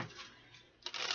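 A deck of playing cards is shuffled close by with soft papery riffling, quiet at first, then a brisker burst of flicking near the end.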